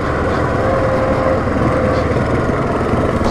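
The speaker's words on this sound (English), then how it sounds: "So here I'm just kind of letting the engine brake do its thing." A Yamaha Grizzly ATV fitted with Elka suspension rolls down a rough trail under engine braking, giving a steady, loud, droning engine note that holds without break for several seconds.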